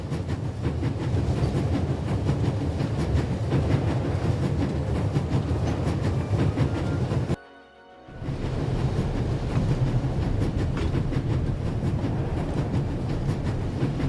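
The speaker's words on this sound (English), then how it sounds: "There's nothing quite like traveling on a train." Train rolling along rails in The Raven Remastered, a steady loud rumble with rhythmic clickety-clack of wheels over track joints, briefly cutting to near silence midway before resuming.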